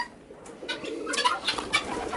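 Pigeons coo softly in low, throaty, repeated calls on a farm during extreme cold, steady and close with no talking over them.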